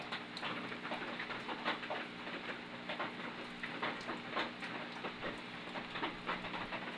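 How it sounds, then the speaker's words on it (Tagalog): Heavy rain pours steadily outdoors around a container of pet crayfish, a dense, continuous hiss with scattered sharper patters and drips, fairly faint and constant, with no voices. "Hindi pa ito masisira, ang lakas ng ulan."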